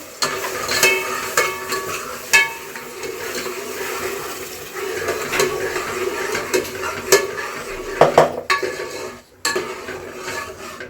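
Ground onion masala paste hits hot oil for a Hassan-style farm chicken sambar, giving a dense, bubbling sizzle with scraping and clattering of a ladle against the pot and a brief pause near the end; no voices.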